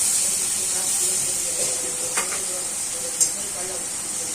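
Butter melting in a pan before paneer is added, giving a steady bright sizzle and hiss throughout, close, with a few faint clinks from the cookware.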